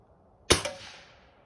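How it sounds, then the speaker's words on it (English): One sharp, close report from a Xisico XS46U air rifle during target shooting, a quick crack that fades out within half a second. "that shot snuck up on me too"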